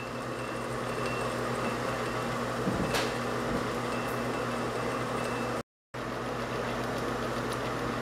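A hot plate stirrer hums steadily while heating and stirring an ethanol solution, a constant low mechanical drone with one brief click midway and a short dropout near the end.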